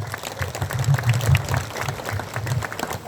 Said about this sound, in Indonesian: Tepuk tangan untuk Kang Huda